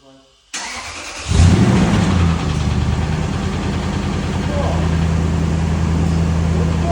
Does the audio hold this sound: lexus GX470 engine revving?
yes